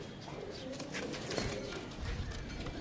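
Rajasthani pigeons coo and rustle in a busy, noisy loft, a low murmur of calls running steadily without talk.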